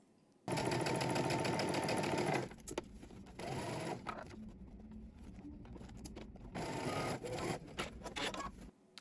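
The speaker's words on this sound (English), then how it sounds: "now you're going to go to the sewing machine and we're going to stitch this using 5/8 of an inch seam allowance" Sewing machine stitches a 5/8 inch seam on a garment in loud, close bursts of fast whirring, the first long run stopping abruptly, then shorter runs with pauses and fabric handling between.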